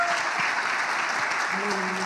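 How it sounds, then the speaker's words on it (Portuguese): A church congregation applauds together in steady, dense clapping that fills the room, loud and continuous, with a faint voice or tone underneath toward the end. "Aplaude a Jesus, queridos."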